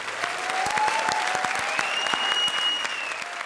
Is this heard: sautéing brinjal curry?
no